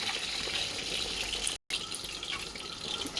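Water pours in a steady gush into a pot of mutton kulambu with chilli and coriander powder, close and continuous for a few seconds with a very short break midway.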